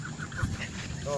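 Ducks in a village beside rice fields give brief, faint quacks and honks over a murmur of background voices.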